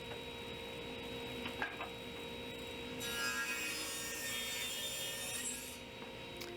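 Wood boards for a garage workbench are worked on, with a steady rasping, rubbing sound that grows louder and fuller partway through before easing off, heard alone without any voices.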